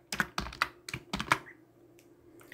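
Keys on a computer keyboard clatter in quick irregular bursts while code is typed into a Python script, with several sharp close taps followed by a pause and a few lighter strokes.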